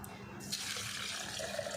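Water poured into a falsa and sugar juice mixture, a steady pouring splash that runs unbroken for the full couple of seconds, close and moderately loud.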